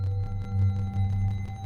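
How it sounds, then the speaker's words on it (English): A steady, hollow synthesizer tone from a Catalan series wavetable hums low with faint bell-like overtones, softly pulsing in a slow wavering rhythm. "that's the sound of the Catalan series waveform,"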